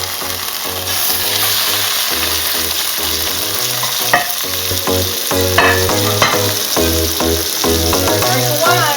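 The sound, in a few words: chicken spinach cheese rolls searing in oil in a pan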